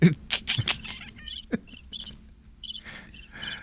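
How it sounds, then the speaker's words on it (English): Crickets chirp steadily in bursts of high, shrill trills, with a few brief clicks and knocks near the start, moderately loud against a quiet background. "Crickets."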